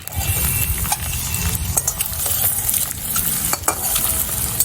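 Egg pieces fry in a pan with a steady, close sizzle, broken by occasional spatula scrapes and clinks against the pan.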